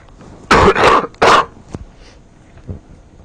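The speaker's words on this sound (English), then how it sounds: "my cough is coming back just 2 days later" A few harsh coughs in a quick burst, then a couple of fainter throat sounds, close and otherwise quiet.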